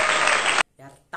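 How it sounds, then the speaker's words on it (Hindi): A canned applause sound effect bursts out loudly for just over half a second and cuts off abruptly, followed by a brief pause and a couple of short voice fragments. "यार तालियां भी फेक बज रही है।"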